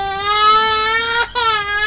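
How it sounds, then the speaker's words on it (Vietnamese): A baby crying sound effect from the YouTube audio library, one sustained wailing cry with a brief catch of breath midway before the wail resumes, clear and close. "Đó, tiếng khóc em bé ha"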